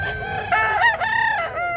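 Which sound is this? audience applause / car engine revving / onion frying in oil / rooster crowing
rooster crowing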